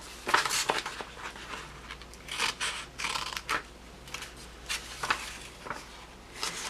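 Scissors snip repeatedly through paper tabs while a simple tab book is made with young learners, giving a quick run of close, crisp cuts with brief pauses between strokes.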